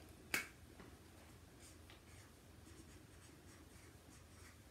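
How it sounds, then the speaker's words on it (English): Marker squeaking across a surface during a kindergarten lesson on measuring capacity, one short sharp stroke near the start and then quiet room noise, with a faint second stroke at the very end. "that's not my best writing"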